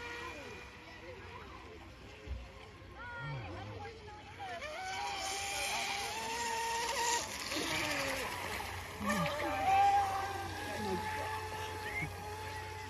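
A Dona Outrigger RC boat on a two-cell setup runs across the water with a steady high-pitched motor whine and splashing. Voices talk over it throughout.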